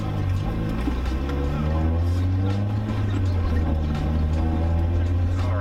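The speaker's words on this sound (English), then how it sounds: "I'm just driving around the block, not doing anything too crazy." Acura RSX with a manual transmission and new shifter cable bushings driving around the block, a steady low engine and road drone heard from inside the cabin, loud and continuous throughout.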